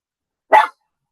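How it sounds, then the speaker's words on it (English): A single short, sharp dog bark, close and loud, surrounded by silence. "So my dog is, yeah, barking."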